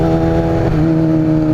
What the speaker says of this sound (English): that supercharger sound sounds so awesome